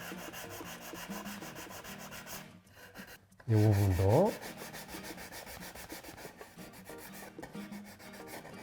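Sandpaper rubs against a rough-cut edge of a wooden bookshelf in steady back-and-forth strokes, close by, with a brief louder squeak partway through and a few quiet spoken words.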